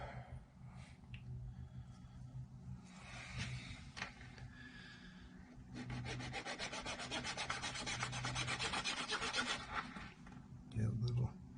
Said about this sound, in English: we'll start filing the bridge down a little bit for the strings